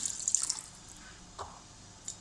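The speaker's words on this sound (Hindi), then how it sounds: "अब हम इसमें 6 गिलास पानी के ऐड करेंगे।" Water from a glass poured into chicken biryani masala in a cooking pot, heard as brief trickling splashes and drips, one early burst then two short pours, fairly faint and close with no voices.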